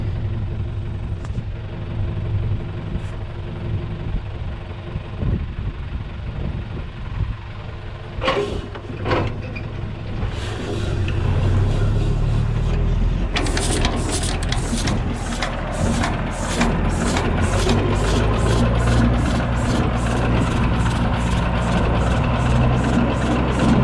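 A John Deere A tractor that sat for three years, running rough on old fuel: a low, uneven engine chug that grows louder and settles into a rapid steady popping exhaust beat, close by.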